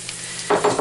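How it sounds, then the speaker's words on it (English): Onions and garlic hit a hot pan on high heat, a close, loud sizzle bursting in abruptly after a quiet moment and crackling in short pulses. "You're going to hear a bit of a sizzle when I add it here."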